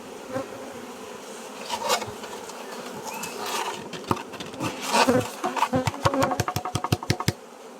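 A honeybee swarm housed in a hive three days earlier hums steadily and close, with scattered sharper buzzes and a quick run of regular tapping clicks toward the end, with no talking.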